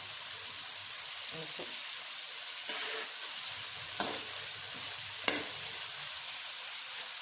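Masala spices frying in oil for a bottle gourd curry, giving a steady soft sizzle with occasional stirring scrapes and a couple of sharp clinks, close up and with no talking.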